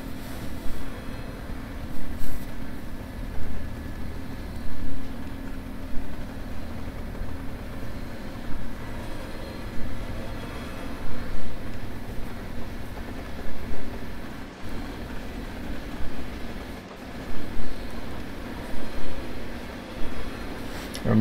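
Model train running on a layout track, a continuous rolling rumble with soft rhythmic clicks from the rails, steady and moderately loud throughout.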